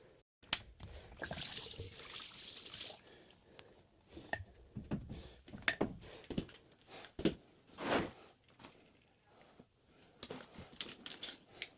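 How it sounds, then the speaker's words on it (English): Water splashing and dribbling in irregular bursts while the drain pump is swapped out on an LG washing machine, with close, clattering spills and knocks amid handling noise. "See if I can avoid as much water spillage as possible."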